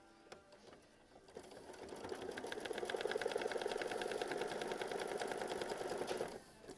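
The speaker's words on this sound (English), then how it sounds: "go ahead and sew machine stitch step 10" A sewing machine stitching down a quilt block, running in a fast, even rattling whir that builds up, holds steady for several seconds and then stops, close and clear with no talking.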